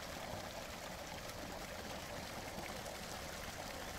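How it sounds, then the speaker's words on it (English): Steady rushing of flowing stream water, a constant broadband wash with no breaks, moderately loud and close. "The sound of water deepens into the darkness"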